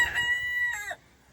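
A backyard chicken lets out a short, loud crow nearby, a bright harmonic call that breaks off sharply into quiet.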